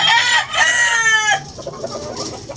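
Chickens on a rural farm, both hens and roosters, make loud, close clucking and crowing calls, a long drawn-out call followed by shorter broken clucks, with no voices.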